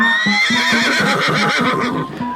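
A working-breed horse gives a loud, close whinny in a quavering, pulsing cry lasting about two seconds, tapering off at the end.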